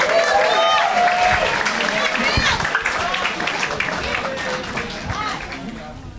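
Audience applause at a seminar on LGBTQIA+ public policy: dense, sustained clapping mixed with cheers and scattered voices, slowly fading toward the end.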